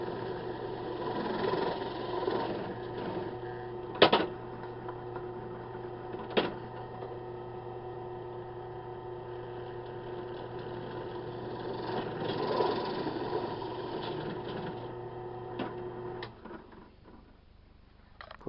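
A machine drills counterbore clearance holes during rotary table work, with a steady motor hum and whine running throughout, a couple of sharp clicks, and a fade to quiet near the end.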